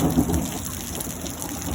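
Steady rain falls, with a broad hiss of drops and a low rumble beneath, continuous and fairly loud throughout.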